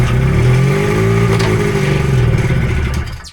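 Race car engine held at light throttle before racing at Eagle River, a steady, close buzzing rev with a strong harmonic drone that holds for about three seconds and then cuts off abruptly.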